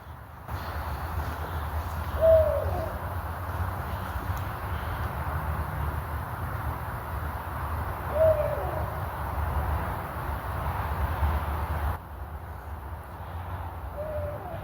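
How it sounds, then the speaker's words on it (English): An owl hoots in short, spaced calls, three over the span, against a steady low rumble of night ambience and insect-like hiss. "it's going berserk, an owl."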